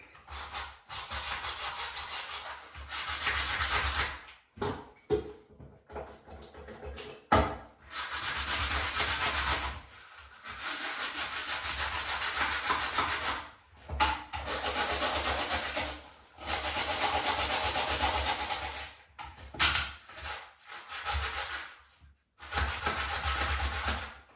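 A brush scrubs an Arnica Tesla Premium vacuum cleaner filter in repeated bursts of coarse, rasping strokes separated by short pauses, close and fairly loud.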